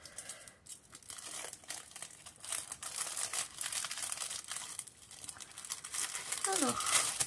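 Wrapping paper crumpled and crinkled while a gift is being wrapped with craft-store paper, a steady rustling close by that fills the whole stretch, with brief tearing bursts and louder crinkles near the end.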